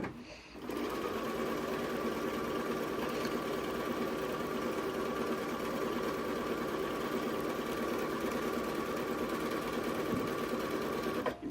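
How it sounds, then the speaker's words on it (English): A sewing machine stitches a straight seam in contrasting thread, its motor running in a steady, close, continuous whir for about eleven seconds without pause. "So the first thing we're going to do is we're just going to sew a seam."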